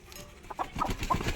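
Chickens on a rooftop cluck in a short burst of several quick, close clucks that build to louder calls toward the end, with no talking.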